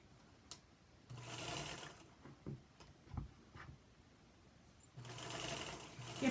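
A sewing machine stitches a quarter-inch seam in quilt block fabric, running in two steady bursts at the start and end with a few small clicks and handling sounds between them.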